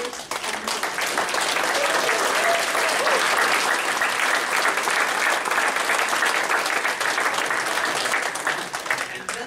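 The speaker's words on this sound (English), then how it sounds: "please join me in giving another round of applause to our newest" Sustained, dense audience applause at a chiropractic graduation ceremony, many people clapping loudly and steadily from start to finish, with faint crowd murmur underneath.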